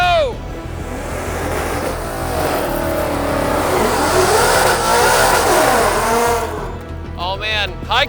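Ford Mustang V8 engine revving hard at a car meet, a loud sustained roar rising and falling in pitch for several seconds, with a crowd voice heard near the end.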